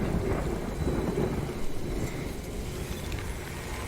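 Timefall rain in the video game Death Stranding pours down steadily and densely, with low rolling thunder rumbling beneath it throughout. No one speaks.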